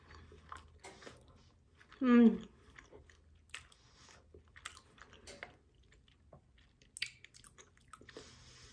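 Someone bites into a freshly baked oat, zucchini and chocolate cookie, giving one loud, close crunch, followed by faint chewing and soft mouth noises.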